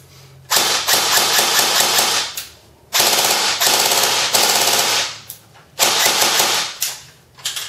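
A tan TSD SRC M4 airsoft rifle, a Gen 2 running on a 9.6 battery, fires three loud, rapid full-auto bursts of about two seconds each, with short pauses between them.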